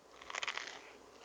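Someone bites into crunchy, buttery garlic bread, making a short cluster of close, crisp crackling crunches that fade into quieter chewing.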